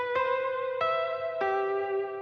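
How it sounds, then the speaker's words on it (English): Mellotron Phonics Harp preset from a Mellotron sample bank, a plucky harp-like tone with reverb, playing three struck chords about half a second apart whose notes ring on and overlap, no voices. "Just like a nice harp slash plucky guitar sound with some reverb on it."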